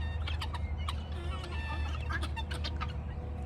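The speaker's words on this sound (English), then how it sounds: "What the heck you birds doing? Get the heck out of here." Turkeys gobble and cluck around a lumber pile, several rapid throaty bursts overlapping at close range against a low background rumble.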